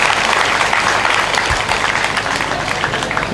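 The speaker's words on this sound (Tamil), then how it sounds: "நல்ல ஒரு கைத்தட்டு கொடுங்க அந்த பிள்ளைக்கு" Audience at a temple consecration festival debate applauding a child, steady dense clapping from many hands, close and sustained with no talk.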